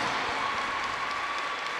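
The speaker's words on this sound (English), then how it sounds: "Get a big round of applause" Steady applause from the audience at a junior figure skating short program at the Budapest International Cup, a dense, even wash of clapping heard throughout without talk.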